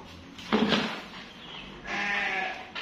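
Sheep on a farm bleat close by during feeding time, with two distinct bleats rising over quiet background noise.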